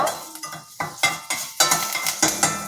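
Curry leaves, asafoetida and dried chili crackle as they temper in hot oil for a sour gourd buttermilk curry, with a spoon scraping the pan in repeated strokes over a steady sizzle, close and without talk.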